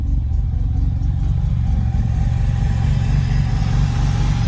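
A first-time, self-built engine in an S5 Killer Bee runs on its first start, a loud, close, steady low rumble with even pulsing firing and no talk.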